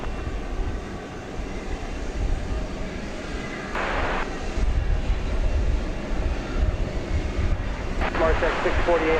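An airliner landing on the runway at DFW airport makes a low, steady engine roar that builds toward the end, with wind buffeting the microphone and brief bursts of radio chatter on top.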